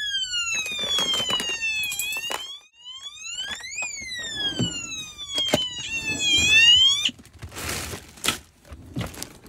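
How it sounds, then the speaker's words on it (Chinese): Electronic alarm on an RV's rain sensor, triggered by water droplets on its sensor plate, sounds in repeated rising and falling sweeping tones. It is fairly loud and close, broken by short gaps, with knocks and handling noises in between. "我这个雨量报警器，就是如果说有水滴在这个板子上，它就会报警"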